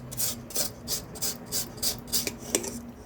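Aloe vera leaf pressed and scraped against the inside of a metal bowl, giving a run of repeated rasping strokes, close and steady, about six scrapes with a faint metallic hum beneath.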